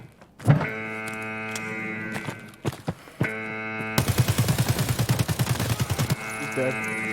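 Gunfire from an M4A1 rifle in the shooter game Escape From Tarkov, with a single loud shot and a few scattered reports, then a rapid automatic burst of about a dozen close shots over roughly two seconds, with mechanical clatter around them.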